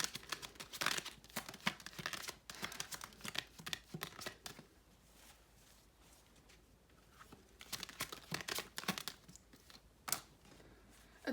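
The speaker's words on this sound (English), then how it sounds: "I'm gonna get an oracle card from this deck." Oracle cards drawn from a deck, giving soft shuffling, sliding and crisp card snaps in irregular bursts, close and quiet, with lulls in between.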